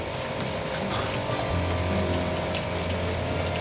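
Rain falling on a school building with a leaking tile roof, a dense steady patter with dripping water, continuous and fairly loud throughout.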